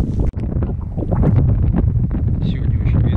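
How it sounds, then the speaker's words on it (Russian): Steady wind buffeting the microphone with a low rumble that runs through the whole clip, mixed with a person talking outdoors in a village field. "Сегодня очень ветрено, не знаю, что будет слышно."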